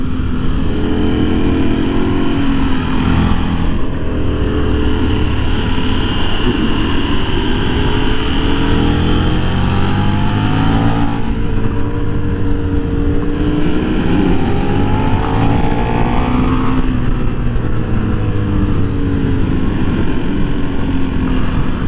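A 2024 KTM 1390 Super Duke R EVO motorcycle being ridden, its engine droning loud and close with continuous wind rush, pitch rising and falling through several gear changes and throttle swells.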